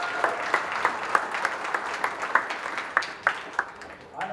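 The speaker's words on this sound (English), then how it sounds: "let's give them a big round of applause" Audience applause in the ring at a county junior fair goat show, scattered claps with sharp individual hits repeating over several seconds, moderately close and steady, then tapering off at the end.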